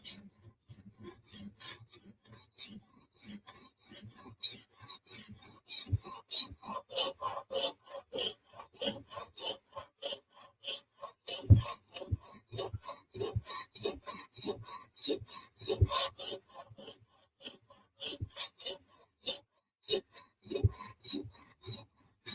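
A ZT 0640 knife is drawn across the abrasive stone of a TSProf Kadet sharpener in a steady series of close, dry scraping strokes with short pauses between passes, no voices.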